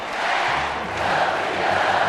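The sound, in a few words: arena crowd standing, singing and celebrating volleyball gold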